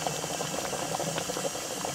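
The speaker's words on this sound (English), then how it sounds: "We got a hard boil." Water in a solar cooker bubbles steadily at a hard boil, with a dense, faint simmering rattle that stays even throughout and no voices.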